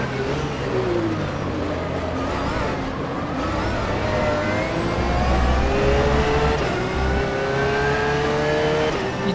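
A Porsche 911 GT3 R race car engine at Imola in the rFactor 2 racing game revs loud and close without a break, its pitch climbing and dropping through gear changes, with no talk over it.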